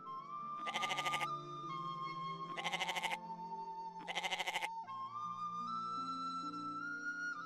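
A goat carried on a man's shoulders bleats three times in quavering bursts, evenly spaced, over steady background music.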